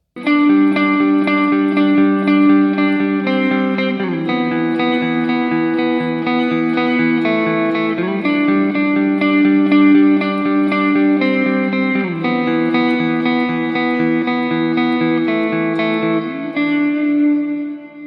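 Guitar part from a song played with reverb, steady sustained chords shifting every few seconds in a continuous loud wash.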